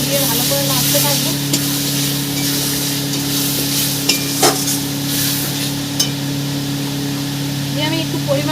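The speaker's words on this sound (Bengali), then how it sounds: "কেটে রাখা টমেটোগুলো দিয়ে দেবো, 3টে টমেটো দিয়েছি আমি, দিয়ে কেটে রাখা টমেটোগুলো দিয়ে ভালো করে নাড়তে থাকবো।" Chopped tomatoes stirred into frying spice paste for a tangra fish curry, a steady hiss and sizzle with occasional spatula clicks over a constant low hum.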